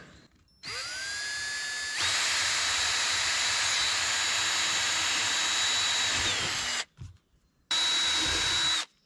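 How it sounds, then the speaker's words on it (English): A power drill spins a hole saw through material outdoors while cutting a drainage trench for roof water, a loud sustained whine that holds for several seconds, cuts out briefly, then starts again close by. "put the hole saw back on, and, you know, use the same bit in the pilot bit you already drilled"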